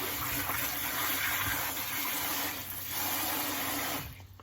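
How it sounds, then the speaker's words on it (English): Steady running cold water gushes from a tap over broccoli rabe for several seconds, a continuous broadband rush that tapers off near the end. "We're going to rinse that broccoli rabe in some cold water."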